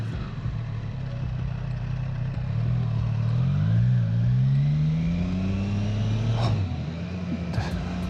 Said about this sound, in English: This has a very nice sound, this engine.